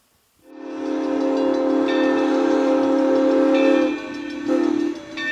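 The Essex steam train's whistle sounds in a loud, sustained blast lasting several seconds, then briefly dips and swells again before trailing off, heard alone and close.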